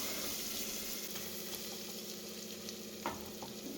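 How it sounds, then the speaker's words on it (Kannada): Green chillies frying in oil on low heat, stirred now and then, giving a steady close sizzle with soft scraping and a few light clinks, no talking. "ಸ್ವಲ್ಪ ನೀಟಾಗಿ ಸಿಮ್ಮಲ್ಲಿ ಇಟ್ಕೊಂಡು ಫ್ರೈ ಮಾಡ್ಕೋಬೇಕು ಈ ಥರ ತಿರುಗಿಸ್ಕೊತಾ ಇರಬೇಕು"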